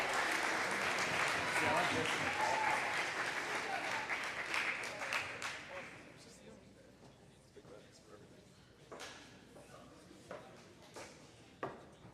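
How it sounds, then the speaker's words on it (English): Clapping for the coaches at a school athletic awards ceremony: loud sustained applause from the crowd that thins out around the middle, leaving scattered individual claps trailing off. "Let's go ahead and clap it up for the coaches as they make their way up."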